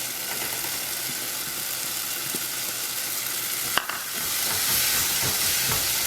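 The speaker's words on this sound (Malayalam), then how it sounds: "ഇതിലേക്ക് അരിഞ്ഞു വെച്ചിരിക്കുന്ന ക്യാപ്സിക്കം ആഡ് ചെയ്ത് കൊടുക്കാം" Chopped capsicum stirred into cooking tomatoes in a pan for Indian-style masala pasta, a loud, continuous hissing sizzle with a sharp clack midway as the pieces go in, then a fuller fry with light stirring scrapes.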